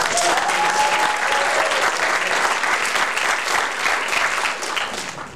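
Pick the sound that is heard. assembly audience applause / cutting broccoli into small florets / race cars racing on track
assembly audience applause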